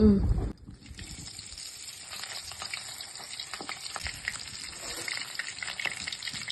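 Marinated chicken leg pieces sizzle steadily in hot oil, a dense, crackling fry with a continuous hiss and small pops that starts abruptly and continues close up without talk.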